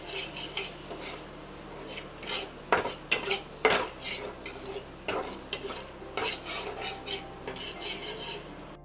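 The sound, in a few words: stirring and frying spice masala in a pan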